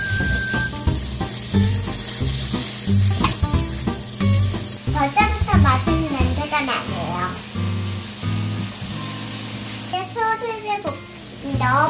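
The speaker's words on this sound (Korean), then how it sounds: "이제 맛있게 볶아 보겠습니다" Shredded ingredients for omelet rice sizzle steadily as they are stir-fried in a hot pan during a kids' cooking session, with stirring scrapes and background music running throughout.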